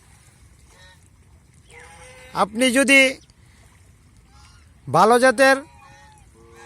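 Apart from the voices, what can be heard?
geese honking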